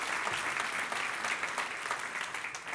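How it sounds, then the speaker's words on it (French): Applause breaks out in a church congregation during a sermon, a steady wash of many hands clapping at moderate volume, continuous throughout with no voices over it. "Oui, quelqu'un applaudit."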